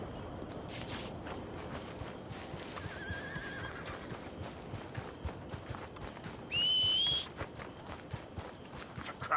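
A horse in the video game Red Dead Redemption 2 whinnies loudly near the end of a stretch of steady clip-clopping hooves, with a short softer neigh earlier.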